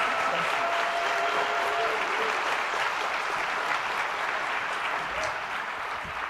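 Sustained applause from a large conference audience at an opening plenary session, a dense, steady wash of clapping filling the hall throughout with a faint murmur of voices underneath.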